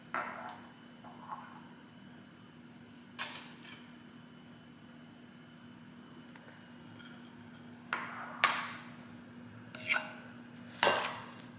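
Cream, brown sugar, vanilla extract and egg yolks being mixed in a bowl: scattered clinks and taps of a utensil against the bowl come in short bursts over a low, steady background hum, no talking.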